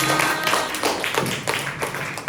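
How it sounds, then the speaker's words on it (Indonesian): Classroom students clapping for group 5, a quick irregular burst of many hands, moderately close and not very loud, with faint chatter underneath. "Oke, tepuk tangan dulu buat kelompok 5."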